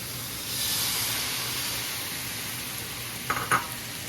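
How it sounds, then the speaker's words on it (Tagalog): Chicken simmering in a pan with pineapple juice, fish sauce and pepper gives a soft steady sizzle and hiss, and a couple of brief utensil scrapes from stirring come near the end. "Haluin muna natin."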